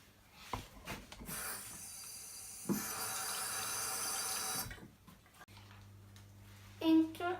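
Tap water runs into a sink for hand washing before baking chocolate croissants, a steady broadband rush lasting several seconds, preceded and followed by faint clinks and handling noises, with a brief tonal squeak near the end.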